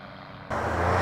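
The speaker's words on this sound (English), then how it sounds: "microlights and powered hang gliders were coming in and going out all day long" A microlight or powered hang glider engine at a busy airfield, quiet at first and then cutting in abruptly with a loud, steady droning buzz close by.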